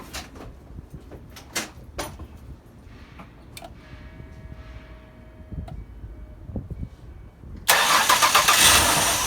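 2003 Mazda Tribute with an oil leak cranking after a few clicks and clunks near the engine bay, the starter then whirring loudly and continuously for the last couple of seconds without the engine catching.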